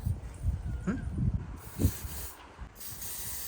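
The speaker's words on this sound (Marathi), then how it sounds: "आम्ही हा स्प्रे मारणार आहे मारायच तुला" An aerosol can sprays in two bursts of steady hiss, each lasting close to a second, over faint background noise before setting off to a wedding.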